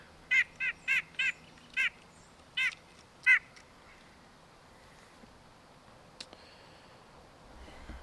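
A white-breasted nuthatch repeats a short nasal call about seven times in quick succession, fairly close, then falls quiet over a soft, steady background hiss, in woodland.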